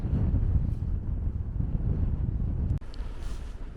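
Heavy wind on Dartmoor buffets the microphone with a loud low rumble that briefly drops out near the end, then returns more softly.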